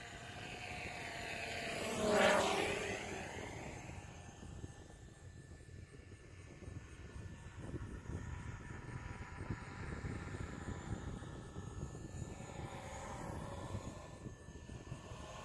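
A DJI Mavic drone fitted with low-noise quick-release propellers flies in sport mode, a faint high whine swelling as it passes close early on, then fading into a steady background hum.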